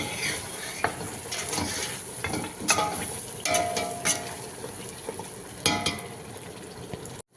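Carrot pieces and green chilies cook in a pan for mutton dum biryani, a low bubbling sizzle broken by several sharp spoon-against-pan scrapes and knocks, close, without speech.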